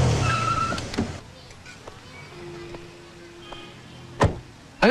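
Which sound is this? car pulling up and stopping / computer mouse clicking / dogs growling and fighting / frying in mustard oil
car pulling up and stopping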